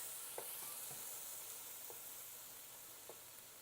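Shrimp sizzle as they hit a hot stir-fry pan, a steady close frying hiss with a few soft clicks and stirring knocks, no talk.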